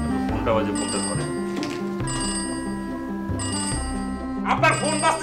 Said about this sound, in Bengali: ফোনটা বাজে, ফোনটা ধরেন।